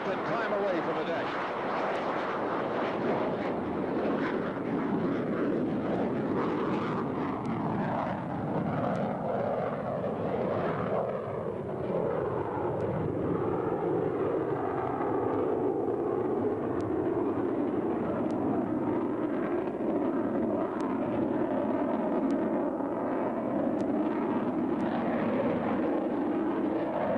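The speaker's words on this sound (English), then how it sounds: "Pogo will take a simulator wave off, go to AB, clean up the aircraft, and climb away from the deck." A military jet going to afterburner and climbing away from a simulated carrier deck at a 1987 Top Gun airshow, a steady loud roar with a slowly falling pitch that fills the whole stretch.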